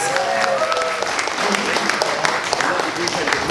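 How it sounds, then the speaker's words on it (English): An audience at a Luton Mela talent show final applauds the judges: dense, steady clapping from a large crowd fills the whole stretch, loud and continuous without a break. "let's give them a massive round of applause"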